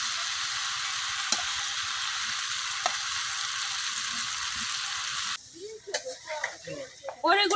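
Jujube fruit frying in oil with turmeric for a village-style pickle, a loud continuous sizzle for several seconds that suddenly drops away, followed by a few soft clinks and faint voices.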